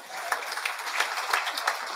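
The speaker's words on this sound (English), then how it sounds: "give him a big round of applause" Audience applause fills a live product announcement event for enterprise automation software, a steady wash of many hands clapping with a few sharper peaks, moderately loud throughout.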